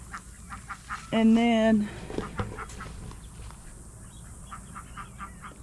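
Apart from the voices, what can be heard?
ducklings with mother duck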